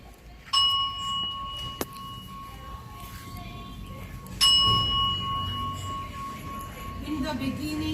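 A bell in a garden rings two clear, ringing strikes a few seconds apart, each tone lingering and fading, with quiet background murmur and voices between them.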